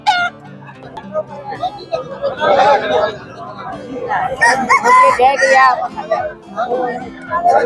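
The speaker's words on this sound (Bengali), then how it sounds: "বুঝছো, চারদিকে শুধু মুরগাই মুরগা আছে" Roosters crowing repeatedly amid a dense outdoor crowd at the Agharpur Chandi mela, several overlapping calls rising over constant chatter and voices nearby.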